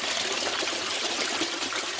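Water flushes steadily from a U siphon into an aquaponics barrel, a continuous even rushing gush with no pauses, close and moderately loud.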